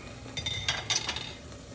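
Eggs knocking against a metal pot as they are nudged around in boiling water, a few light clinks and taps over a soft bubbling background.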